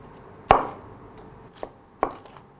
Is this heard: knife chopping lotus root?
yes